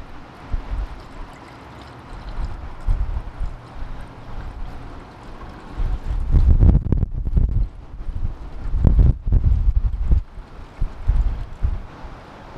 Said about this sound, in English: Windy day coolant pour without a funnel.